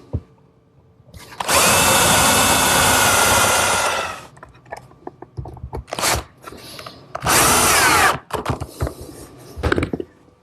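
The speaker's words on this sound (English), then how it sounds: "Drill a few holes for some screws." A power drill bores screw holes into a wooden shelf fitted in a dado on a chop saw station, with one long loud whirring run followed by several shorter bursts and small handling knocks between them.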